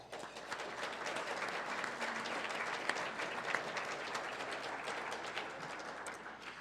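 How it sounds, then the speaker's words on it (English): A civic club audience claps for event sponsors, a fairly quiet but steady wash of many hands that swells in and holds evenly, with a couple of sharper claps standing out. "Please join me in a warm round of applause for all of them."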